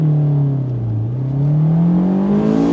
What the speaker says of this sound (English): I'm gonna turn traction control off, head into first, rev it out a bit